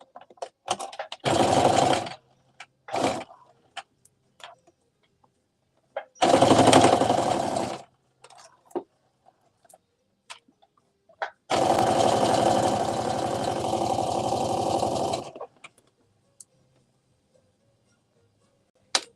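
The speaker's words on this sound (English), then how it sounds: "I'll stitch it and then serge it." A sewing machine stitches a sweatshirt top in loud, fast, rhythmic bursts. Short runs alternate with a long sustained stretch of stitching, and quiet pauses fall between the runs.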